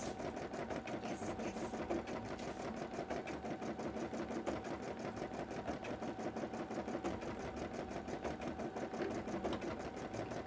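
A sewing machine runs steadily and rapidly, its needle clattering in a fast even rhythm throughout, close and fairly loud with no talking.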